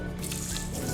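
Hands rub and swirl sushi rice in water during the second rinse, making soft, continuous wet squishing and sloshing sounds close by.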